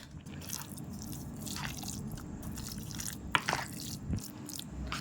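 Salted chicken kebab mixture is worked by hand with soft, wet squishing and squelching close by, with a few sharper clicks against the bowl.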